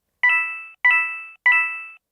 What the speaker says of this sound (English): Collect 1 coin from the bank for each ping you hear.